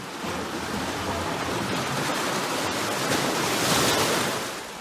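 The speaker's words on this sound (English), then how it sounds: "In this video, you can see and hear the roar of the waves at the cave opening." Roaring waves surge at the opening of Devil's Hole, a partially water-filled limestone cave in Death Valley National Park, a steady loud broadband wash that swells slightly toward the end, with no voices.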